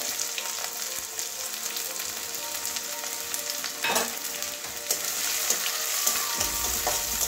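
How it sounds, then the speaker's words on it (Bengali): Chopped onion, green chilli and garlic frying in a pan, giving a steady close sizzle that grows slightly louder toward the end, with an occasional stir. No one speaks. "পেঁয়াজের কাঁচা গন্ধটা যাওয়া পর্যন্ত ভেজে নেব"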